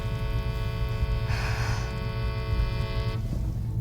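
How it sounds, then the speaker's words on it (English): A steady, harmonically rich horn blast, thought to be the air horn of an armored big rig semi truck, sounds for about two seconds over a low rumbling engine hum. "As the air horn blows loudly across the battlefield"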